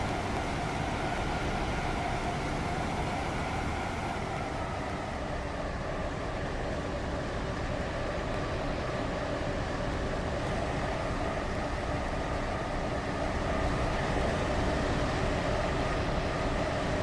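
A train rolls into a station with a continuous, even rumble of wheels and carriage noise that is loud and close and holds steady the whole time, with no voices.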